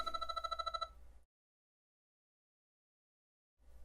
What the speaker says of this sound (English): If a phone call comes in,